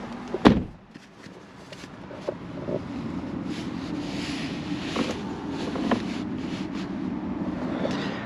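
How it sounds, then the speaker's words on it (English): A 2023 Mitsubishi Outlander door is shut once with a single sharp thud near the start, followed by a steady low hum of the car's interior and faint rustling. "And when I shut the door"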